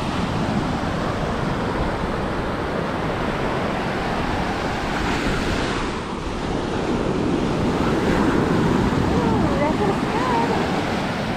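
Ocean surf washing onto a beach at sunset, a steady broad roar of breaking waves with wind buffeting the microphone, continuous and fairly loud throughout.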